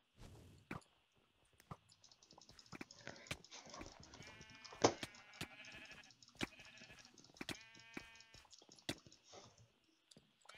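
Several sheep in a video game bleat in short wavering calls amid scattered clicks and taps, fairly quiet and close, with no talking.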